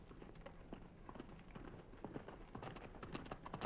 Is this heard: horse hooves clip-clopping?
yes